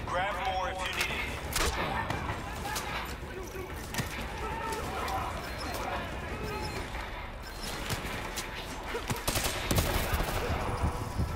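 Rapid automatic gunfire and overlapping shots in the video game Call of Duty: Black Ops III, dense and continuous with loud bursts throughout and game voices mixed in.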